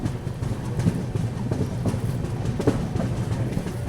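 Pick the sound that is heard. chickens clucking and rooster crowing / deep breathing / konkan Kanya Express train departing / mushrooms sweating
konkan Kanya Express train departing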